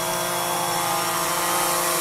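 A DJI Phantom 3 Standard drone fitted with extended antennas descends to land near a shoreline with buoys, giving off a steady, loud, high-pitched buzzing whine of spinning propellers with no voices.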